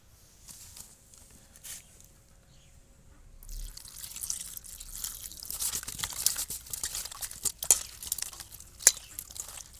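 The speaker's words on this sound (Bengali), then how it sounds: "দুই তিনবার করে এরকম জল দিয়ে ফুলকপিগুলো ধুয়ে নিতে হবে।" Cut cauliflower florets being washed by hand in a bowl of water, with close splashing, dripping and wet crunchy rustling that grows busier and louder after the first few seconds, no voices.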